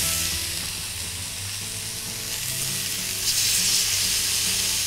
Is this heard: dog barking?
no